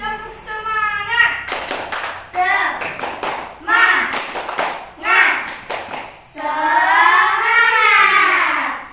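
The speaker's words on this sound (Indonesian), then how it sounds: "Yuk, tepuk semangat." Children in a classroom perform the tepuk semangat clapping chant, sharp clap bursts in a quick rhythmic pattern mixed with loud shouted chanting, ending in a sustained group cheer.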